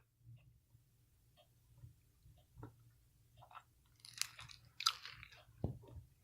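A stick of peppermint gum is chewed close to the mouth, with soft wet crunches and sticky smacking sounds at an irregular rhythm, quiet with nothing else heard.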